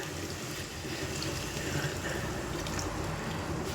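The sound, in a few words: water being poured into a cooking pot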